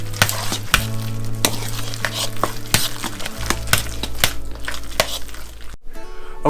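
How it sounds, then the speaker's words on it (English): Shrimp are stirred into potatoes in a pot, with a spoon scraping and clanking in an irregular rhythm over a constant close sizzle. The cooking carries on alone with no talk. "We're going to dump those right over into the potatoes. We're going to stir that in."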